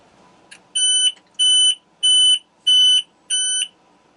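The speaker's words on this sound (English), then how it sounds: "That triggers the water witch alarm." Five loud, evenly spaced electronic beeps from a sailboat's high-water bilge alarm, each a sustained high tone about half a second long with short gaps between.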